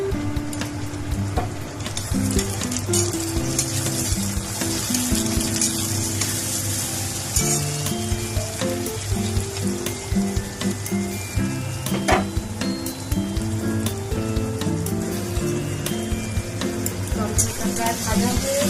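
Chopped tomatoes frying in a pan for a home-style chicken curry, a steady close sizzle and crackle with occasional stirring scrapes, continuous throughout with no talking.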